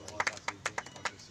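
A congregation at a New Year special church meeting breaks into clapping, with eight or so sharp, fairly close claps landing at an uneven pace over a low background murmur.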